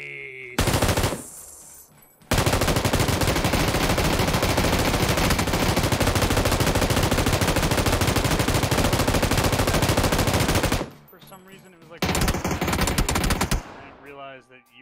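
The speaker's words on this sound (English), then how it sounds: "I couldn't hear over the gunshots." Sustained rapid machine-gun fire in a video game roars loud and dense for long stretches, breaking off briefly before another burst, with players' voices faintly underneath.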